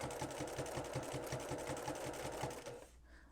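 A sewing machine fitted with a walking foot stitches a 3/8 inch seam, its rapid, even needle chatter running close and steady for nearly three seconds before stopping abruptly.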